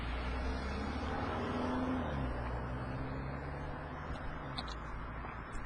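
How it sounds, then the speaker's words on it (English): Cars whiz past on a nearby road, a steady broadband traffic rush with no voices. "You hear cars whizzing by. That's because there are cars whizzing by."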